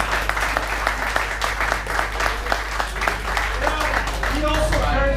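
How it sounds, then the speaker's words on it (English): An audience at an ice hockey league awards ceremony gives a steady round of dense clapping, sustained for several seconds, with a voice speaking over it. "Big round of applause to John Sukhumvit"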